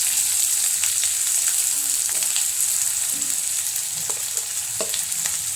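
Onion, shallot, ginger, garlic and green chilli fry in hot oil in a home kitchen pan, giving a steady loud sizzle with occasional stirring clicks and scrapes throughout.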